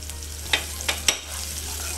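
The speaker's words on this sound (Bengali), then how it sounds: "হালকা করে এক থেকে দুই মিনিট চাড়াচাড়া দিব আর কি, ভাজা ভাজা করব।" Onion and five-spice fry in oil, a soft steady sizzle punctuated by three quick scraping clicks of a spatula stirring the pan, close and without talk.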